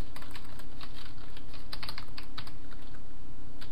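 Fingers tap on a computer keyboard in a loose run of close, light clicks over a steady hum, without speech.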